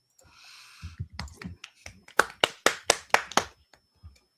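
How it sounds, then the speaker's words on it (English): Audience applause for a first-time speaker at a live event, starting as a few scattered claps and building into a run of sharp, loud clapping bursts before it fades. "give a warm welcome, nice big applause to first-time speaker Will Keller."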